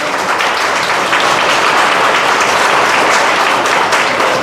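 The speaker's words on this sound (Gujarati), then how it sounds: "આપણે સૌ એમનું તાળીઓથી સ્વાગત કરી લઈએ" An audience warmly welcomes first-time guest family members with a loud, continuous round of clapping that fills the whole moment.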